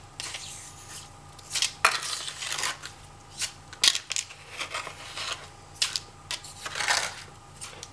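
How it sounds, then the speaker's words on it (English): Material swirled and washed around in a gold pan, giving close, intermittent rasping swishes and gritty scrapes in irregular bursts over a faint steady background hum. "we'll pan it out just for the heck of it and see what is actually there"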